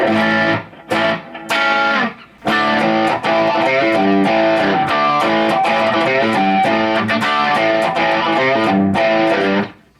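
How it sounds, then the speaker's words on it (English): An electric guitar through a Tube Screamer-style overdrive pedal plays 1980s hard rock chords and riffs, crunchy and loud, with short pauses early before continuing steadily. "This is like a tube screamer."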